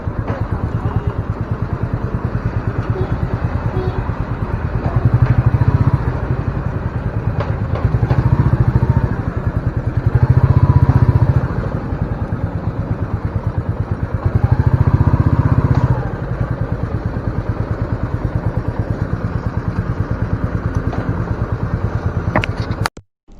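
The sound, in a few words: Royal Enfield Meteor 350 motorcycle engine and exhaust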